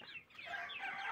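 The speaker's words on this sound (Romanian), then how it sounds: "Cocoșul ăsta golaș," A naked-neck rooster clucks faintly and briefly in a farmyard, giving a couple of quiet throaty calls over light background noise.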